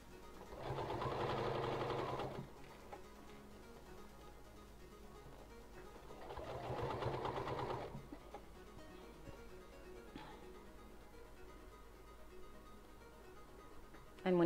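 A sewing machine stitches a fabric travel bag in two steady runs of a couple of seconds each, with quiet handling of the fabric in between.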